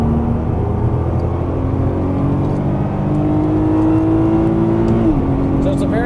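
A Nissan GT-R engine on a race track accelerates inside the car as a loud, smooth rising drone, climbing steadily before a gear change drops its pitch, while a person talks over it.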